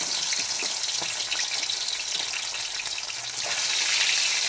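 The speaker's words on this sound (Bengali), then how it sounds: "এই মাছগুলি হালকা হালকা করে সুন্দরভাবে, বেশি ভাজবো না, একদম অল্প ভেজে তুলে নেব" Pomfret fish sizzle in hot oil in a wok, a loud, continuous crackling hiss that swells slightly toward the end, with no voices over it.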